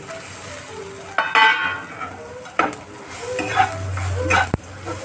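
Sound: stirring fried bitter gourd into roasted onion in pan

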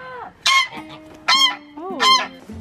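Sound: geese honking

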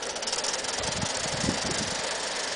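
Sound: model Mikado steam locomotive pulling six Bachmann coaches uphill

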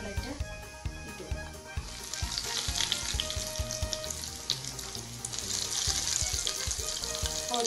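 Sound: chicken cutlets frying in oil

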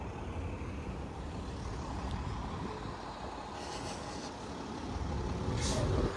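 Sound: trucks passing on a road in an industrial area

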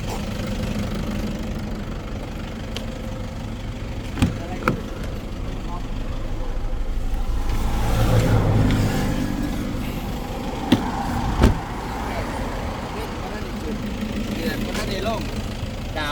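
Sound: car engine running

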